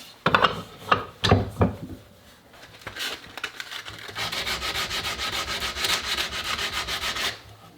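Scraping and rubbing while finish is stripped from the wooden stock of a Stevens Favorite rifle: a few separate strokes first, then a long, steady run of fast, even rasping strokes, close and loud.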